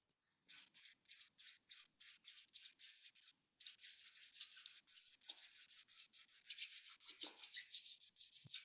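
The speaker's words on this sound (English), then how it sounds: "Join your both palms very slowly. Rub your palm." Two palms rubbed together in slow, steady strokes during a yoga session, a soft dry swishing repeated in a regular rhythm with a brief pause partway, close and alone.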